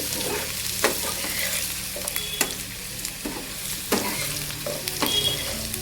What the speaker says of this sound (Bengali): আলুটা কিন্তু আমি খুবই ভালোভাবে ভেজে নিচ্ছি।